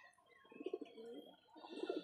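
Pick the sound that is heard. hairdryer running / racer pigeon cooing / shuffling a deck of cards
racer pigeon cooing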